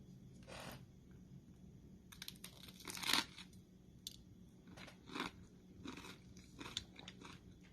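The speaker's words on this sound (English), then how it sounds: "the baguette provides a nice crunch, so let's try it out" Crunchy baguette snack being bitten and chewed up close, a string of sharp crackly crunches and softer chewing sounds spaced irregularly over quiet background.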